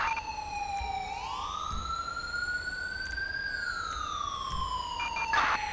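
An ambulance siren in the video game Grand Theft Auto V rises and falls in long, smooth sweeping wails, steady and fairly close, over faint road rumble with no talk.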